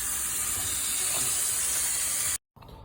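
A basic garden hose with a spray attachment, used while flushing a water heater, gives a loud, steady hiss of spraying water that suddenly stops, then comes back more quietly.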